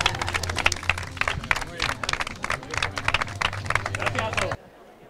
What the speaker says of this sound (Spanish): Un aplauso para vosotros mismos.